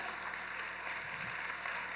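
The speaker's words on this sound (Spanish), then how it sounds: "Vamos, aplauda su nombre, aleluya." A church congregation applauds during a sermon, a steady wash of clapping spread evenly across two seconds at moderate distance, with no voices standing out.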